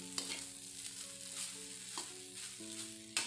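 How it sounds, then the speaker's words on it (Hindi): Leftover rice and vegetables are stir-fried in a pan, a soft steady sizzle broken by a few scraping clicks of a spatula, fairly quiet, with faint background tones underneath. "चावल डालने के बाद अच्छे से हम उसे मिक्स करेंगे"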